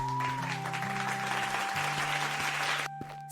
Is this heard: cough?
no